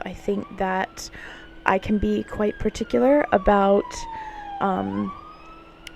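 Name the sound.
siren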